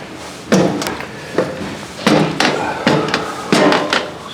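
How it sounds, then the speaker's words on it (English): The front entry door of a 2022 XLR Micro Boost 27LRLE RV is worked, giving a string of five separate thumps and latch clacks, sharp and close, with no talking. "We'll go in the front entry door here"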